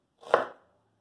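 A single quiet knife chop through chili peppers on a cutting board, one crisp thud standing alone before silence.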